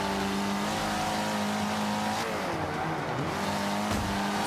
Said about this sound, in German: Perfektes Überholen und danach ein Crash.